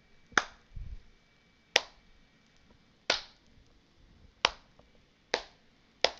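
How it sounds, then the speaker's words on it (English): Six sharp, evenly spaced claps ring out alone in a quiet room, each about a second and a half apart in a deliberate slow clap. "slow clap with me"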